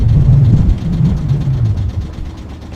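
Diesel engine on a sailboat running steadily on the Salish Sea, a loud low throbbing drone that stays close and even, fading slightly toward the end, with no talk over it.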